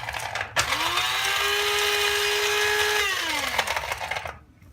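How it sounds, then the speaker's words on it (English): A small electric coffee bean grinder pulses walnuts into meal, a loud high whirring buzz that runs for about two and a half seconds and then winds down, with no talking. "I just take a little nut grinder or coffee bean grinder, and I just pulse it a little bit until I have walnut meal."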